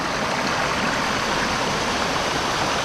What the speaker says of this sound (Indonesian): semburan air ini sungguh luar biasa